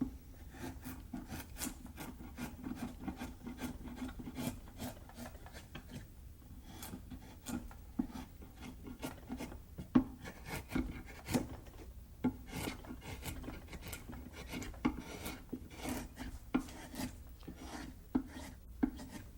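Hand gouge carving wood for an American eagle carving, continuous close scraping and shaving strokes with small sharp ticks, steady and fairly quiet with no talking.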